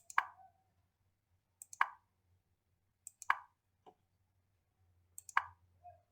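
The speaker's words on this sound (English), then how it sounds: "Left click, right click, left click, just click." Mouse clicks on a computer desk, four distinct sharp clicks spaced about a second and a half apart, each with a faint soft tail, close and quiet against near silence with no talking.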